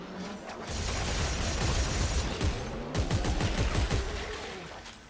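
Rapid bursts of gunfire from the video game Dead Space 3 run almost continuously for several seconds, dense and loud in the foreground with no talk over them.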